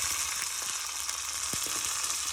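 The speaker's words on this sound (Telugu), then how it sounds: "కరివేపాకు, పచ్చిమిరపకాయలు, కరివేపాకు వేసుకుంటున్నాను" Curry leaves and green chillies sizzling in hot tempering oil make a constant bright hiss, close and even, with a few faint clicks and taps beneath it.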